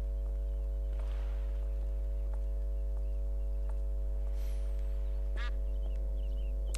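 Duck in The Escape of Monkey Island, a few quacks and squawks scattered over a steady low game-music drone and hum, faint and moderately distant.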